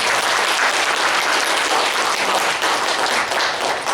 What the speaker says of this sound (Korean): 박수로 한번 경배해 주시기 바랍니다